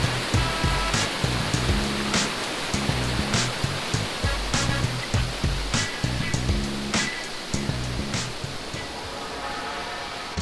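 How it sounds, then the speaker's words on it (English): Toketee Falls, a two-step waterfall in southern Oregon, gives a dense, constant roar of falling water, with steady rhythmic thumps running through it. "Toketee Falls is one of the most well-known waterfalls in Oregon."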